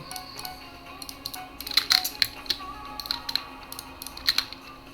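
Computer keyboard keys clicking during gaming, sharp irregular taps and clacks in uneven bursts, close and fairly crisp over a faint steady background hum.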